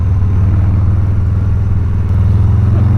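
A 2022 Harley-Davidson Low Rider S motorcycle engine idling up close, a loud, steady, deep throbbing rumble that holds even throughout.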